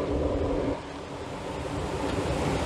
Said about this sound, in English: I've been hearing the creek.